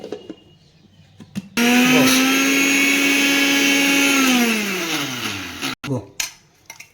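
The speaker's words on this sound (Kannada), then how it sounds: "ಇದನ್ನು ಮಿಕ್ಸಿಗೆ ಹಾಕಿದರೆ ನಿಮಗೆ ಏಳು ಪುಡಿ ರೆಡಿ ಆಗುತ್ತೆ ಫ್ರೆಂಡ್ಸ್ ನಾನು ಮಿಕ್ಸಿಗೆ ಹಾಕ್ಬಿಟ್ಟು ತೋರಿಸ್ತೀನಿ" A mixer grinder grinds sesame and curry leaf powder. Its motor snaps on with a loud, steady high whine for about three seconds, then slows and winds down, followed by a few clunks.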